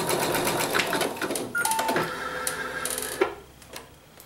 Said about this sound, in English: We're going to start the machine and stitch our quarter inch.